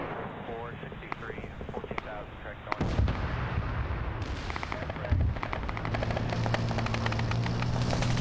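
Heavy gunfire and explosive blasts from a military video game featuring tanks such as an Abrams and RPGs, with loud repeated shots and booms, a sharp burst near three seconds and another near five, over constant battle noise with talk.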